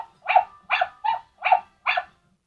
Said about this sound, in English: If you get too close to it, it will bark